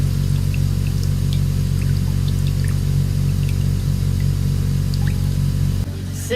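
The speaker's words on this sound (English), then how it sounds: "it's spitting out water. That's a load of reds. That's the water coming out." A Panda 3200 rpm portable spin dryer spinning a load of wet red laundry, its steady loud motor hum with water trickling out, continuous close up before the drum sound drops off abruptly near the end.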